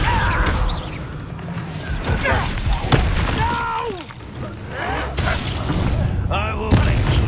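A Descendo spell cast in the video game Hogwarts Legacy, with crashing, shattering impacts and whooshes in a busy combat mix, under voices speaking throughout.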